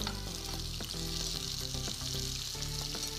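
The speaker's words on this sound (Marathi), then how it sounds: "आणि ग्रेव्हीसाठी इतर मसाले भाजून घेऊ. कांदा, टमाटर, हिरवी मिरची आणि लसूण" Onion, tomato, green chili and garlic fry steadily in a pan for a gravy, a loud continuous sizzle with occasional light stirring scrapes and no talking.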